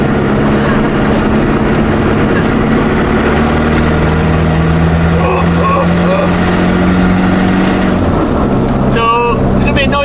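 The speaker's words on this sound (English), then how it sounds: "when I took my earphones out, it sounded like my exhaust had fell off" A Land Rover Defender's loud, rough engine drone with a deep rumbling exhaust from a broken exhaust runs steadily throughout, with a voice briefly audible near the end.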